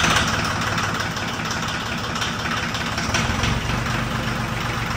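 John Deere 750 tractor diesel engine idles with a steady, even low clatter and rumble, close by and continuous with no talk.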